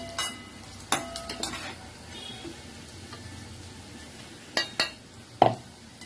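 Fried onion and garlic are scooped out of a pan for a green-chilli fish fry curry, with sharp metal spoon scrapes and knocks against the pan in clusters over a soft, steady sizzle.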